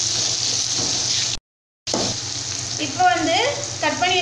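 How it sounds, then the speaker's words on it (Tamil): Radish frying in a pan as it is sautéed and stirred with a ladle, giving a steady close sizzle and scraping that cuts out briefly and then returns, with faint voices in the background. "நல்லா வந்து கரண்டியில் வந்து வதக்கி விட்டுக்கோங்க"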